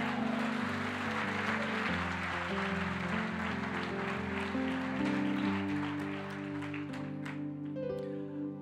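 Church congregation applauding: a steady wash of many hands clapping under a held, droning organ-like chord, continuous and fairly loud before thinning toward the end.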